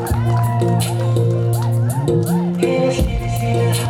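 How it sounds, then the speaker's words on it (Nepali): A school crowd cheers and shouts for a quiz master at a school final, loud overlapping voices and whoops under a strong musical tone, with no distinct clapping standing out. "कृपया क्विज मास्टरको लागि जोरदार ताली हो।"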